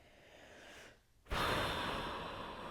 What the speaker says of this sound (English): Cleansing breath.